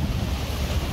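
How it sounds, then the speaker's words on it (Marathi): Sea waves wash against the shore at Marine Drive, Mumbai, at night: a continuous low surging roar mixed with wind buffeting the microphone, with no voices. "बघा मस्त लाटा बघा."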